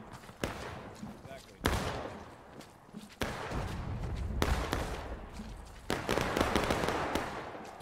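Massed musket fire in the Civil War game War of Rights, loud overlapping volleys and scattered shots cracking in waves at close and middle distance, with a voice speaking over the gunfire.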